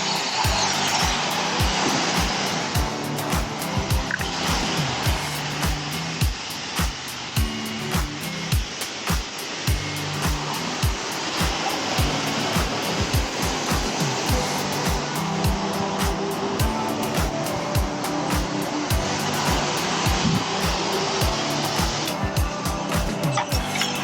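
Powerful car wash blowers roar steadily throughout, a loud broadband rushing of air with rhythmic pulsing thumps underneath, as from a drive-through car wash dryer running at full power.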